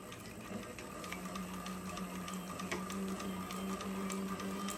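A Cobra Class 26 sewing machine stitches through two layers with a steady, fast mechanical chatter and a continuous motor hum, running evenly without pause at moderate loudness.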